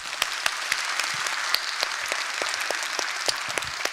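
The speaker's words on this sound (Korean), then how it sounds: "우리 교회 주인이신 하나님 앞에 영광의 박수 하겠습니다" A church congregation claps in praise, a broad wash of many hands with a few sharper individual claps standing out at a roughly regular beat, sustained evenly and moderately loud.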